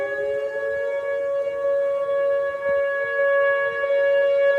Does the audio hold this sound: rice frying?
no